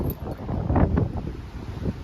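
Gusty wind blows outdoors on a hillside near a forest in San Marino, a steady low rumble buffeting the microphone that swells to a stronger gust midway and then settles, with no voices heard.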